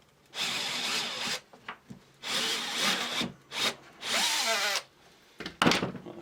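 A power drill bores rivet holes through leather for an axe sheath, with several separate bursts of whirring and grinding, some long and some short, separated by brief pauses, close and fairly loud.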